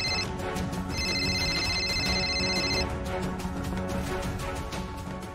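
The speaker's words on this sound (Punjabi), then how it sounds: "ਲੈ ਤੇਰੀ ਮਾਂ ਦਾ ਫੋਨ ਆ ਰਿਹਾ" A telephone rings with an electronic ringtone, a repeating bright melodic pattern of tones that plays steadily over a low background hum.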